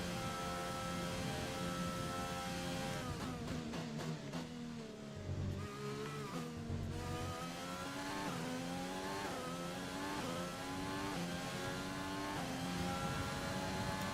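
Formula One car engine in the F1 2020 video game, a loud high-pitched wail climbing through gear shifts with brief drops and re-rising revs, continuous and close throughout.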